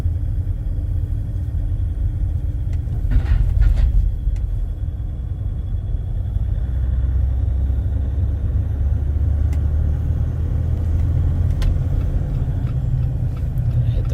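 A 2023 Jeep Gladiator with the 3-liter diesel drives along with a steady low engine drone and road rumble inside the cab, a few brief knocks near the start, no talking.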